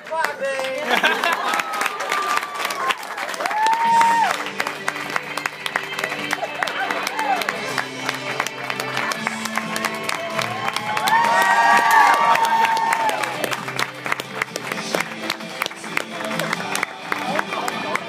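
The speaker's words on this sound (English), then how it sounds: "Keep clapping!" A studio audience claps and cheers at a show premiere, dense sustained applause with whoops rising and falling, while music plays and a voice speaks over the crowd.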